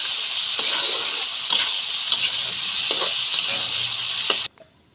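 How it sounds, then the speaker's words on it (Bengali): Rice for prawn biryani fries in a pan with a loud, close sizzle and repeated scraping stir strokes, before the sound cuts off abruptly near the end. "এখন প্লাস চালটা ভেজে নেব"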